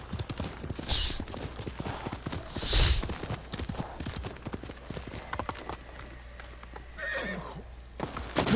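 A horse in the Ghost of Tsushima video game, with rapid clip-clopping hooves running throughout, a couple of sharp loud neighs breaking through, and a fainter whinny near the end.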